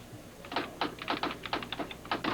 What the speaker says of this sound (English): I'll type it on the typewriter.